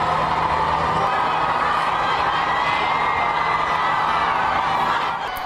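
Dense crowd roar fills New York City streets during the World Cup ticker tape parade, a steady continuous wash of cheering and shouting voices with no pauses, loud and sustained throughout.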